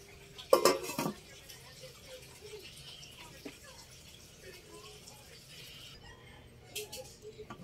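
Metal lid clanks onto a pot of chicken adobo simmering with pineapple and egg, a sharp clatter near the start followed by quiet kitchen noise and a few faint clinks.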